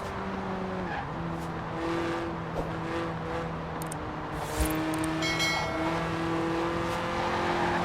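A Lotus Elise Sport 190 with a 1.8-litre engine revving toward 8,000 RPM in Forza Horizon 4, a steady high engine drone with shifting pitch, a brief thump midway and some tire squeal, no talking.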